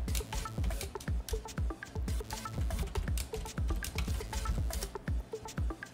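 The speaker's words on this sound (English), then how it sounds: "So go ahead and type password for root." Rapid, uneven clacking of keys as a password is typed on a computer keyboard, close and clear, with dense clicks running throughout and no talking.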